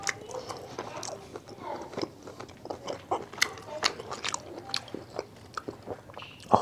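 Close crunchy bites and wet chewing of kimchi during a Korean-style eating session, a run of small crisp crunches and mouth sounds over a low background hum.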